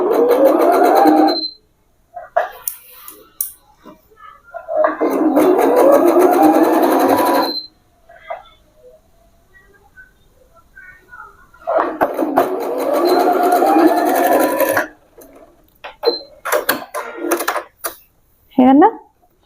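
A sewing machine runs double stitching on straight pants in bursts of rapid, buzzing stitch noise, stopping and restarting several times, with a person talking in the pauses.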